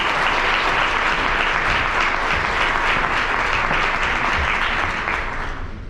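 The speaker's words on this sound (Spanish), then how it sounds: "Démosle por favor la bienvenida a un fuerte aplauso." A large audience at an educational event on neuroendocrine tumors breaks into loud, sustained applause to welcome a speaker, a dense wash of clapping that holds steady for several seconds and then begins to fade.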